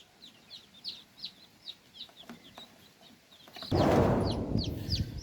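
Native free-range chicks with their hen give a run of thin, high repeated peeps in quick succession, close by, until a sudden loud rustling, flapping burst swells up and covers the last seconds while peeping continues faintly.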